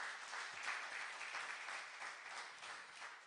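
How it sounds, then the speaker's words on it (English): Attendees at an academic roundtable on decolonisation applaud themselves, a dense, even patter of many hands clapping throughout, fairly quiet and distant with no voices over it. "give yourselves a great round of applause"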